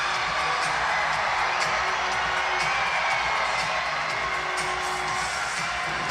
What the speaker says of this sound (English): Crowd goes crazy as Vanzella scores his second goal of the season